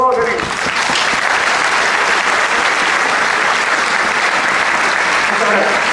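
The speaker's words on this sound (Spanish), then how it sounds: "pido un aplauso para el abogado y para la dirección de este ilustre Colegio de Abogados de Lima" Loud, sustained applause from a large audience at a Lima Bar Association event, honoring a lawyer and the association's leadership, a thick continuous wash of clapping with a murmur of crowd voices underneath.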